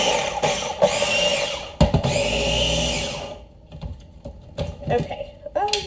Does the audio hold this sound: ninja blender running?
yes